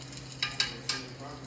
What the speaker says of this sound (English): our rice is starting to sizzle and kind of jump up and uh, down